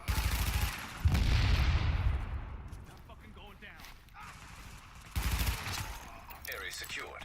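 Grenades go off in The Division with loud, booming blasts, one near the start and another about five seconds later, each fading out. Voices and quieter combat noise fill the gaps between them.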